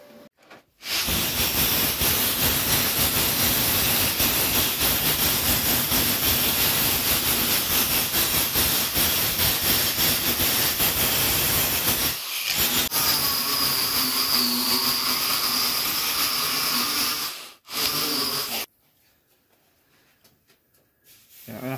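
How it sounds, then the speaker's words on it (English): Angle grinder cleaning up welds on a Ford Escort MK1 front wing, a loud, harsh continuous grind running for long stretches with two brief pauses, then cutting off into near quiet. "Let's clean up with the grinder."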